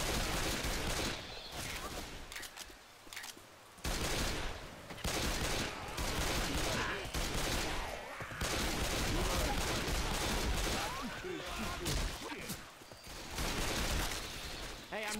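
Dense, sustained gunfire while fighting zombies in Left 4 Dead 2: loud, overlapping bursts run nearly nonstop for about fifteen seconds, with only a few brief gaps and voices mixed in.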